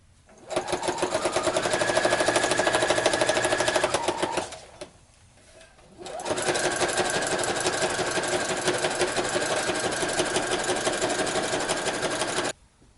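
A sewing machine stitches a seam along the sleeve of a Battlestar Galactica replica jacket, running in two steady, loud mechanical bursts of rapid needle clatter separated by a brief pause, with no talking.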